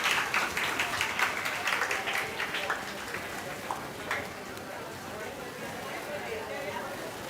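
Applause from an audience at a career guidance gathering starts as a ragged burst of individual claps, then thins into scattered hands and background chatter as the clapping fades.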